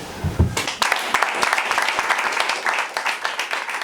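Applause breaks out from the audience at an intraschool debate at a school in Ojodu, Lagos, a brisk, dense patter of many hands clapping that holds steady after a brief lead-in.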